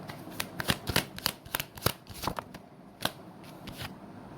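Tarot cards being shuffled and flicked during a card reading, with a series of quick papery riffles and snaps spread across the span, close and fairly soft with no talking.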